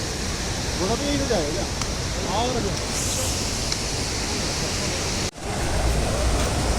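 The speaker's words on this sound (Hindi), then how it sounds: "ये जो नदी चल बह रही है इसकी आवाज़ सुनी, इतनी स्पीड से पानी चल रहा है।" A fast mountain river on the Amarnath Yatra route roars as a dense, constant rush of water close by, with a couple of brief chirping sounds early on and a momentary dip in the noise near the end.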